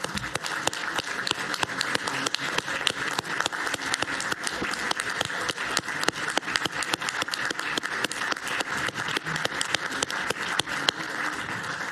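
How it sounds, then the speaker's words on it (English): A conference audience at a democracy and pluralism retreat applauds staff, a dense, even wash of many hands clapping that holds steady and fairly loud for the whole stretch, with no talk over it. "let's just give them a round of applause"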